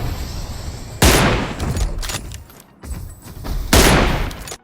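Gunfire in the mobile battle royale game BGMI, two loud sharp bursts of shots with smaller reports and clatter between them, close and punchy.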